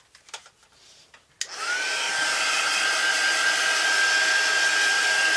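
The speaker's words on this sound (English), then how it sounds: "I'm going to go ahead and start running the heat gun." A heat gun starts up after a few handling clicks and then blows with a loud, steady whine and rushing air, running continuously close by while drying a collage journal cover.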